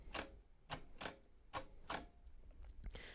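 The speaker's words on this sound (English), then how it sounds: "The embossing head moves across one cell as you type." Keys pressed on a Perkins brailler, five crisp mechanical clacks at an irregular steady pace, close and clear, followed by softer clicks and a light whirring slide at the end.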